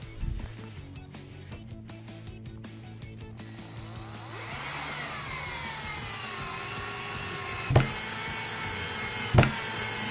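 A power screwdriver drives a self-tapping screw into wood, opening with a few knocks and clicks, then a steady rising motor whine as the screw sinks, broken by two short sharp bursts near the end.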